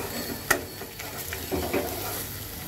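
Water poured into a pan of sizzling fried masala for egg curry, a quiet bubbling hiss with a sharp clink and soft stirring, close and fairly faint.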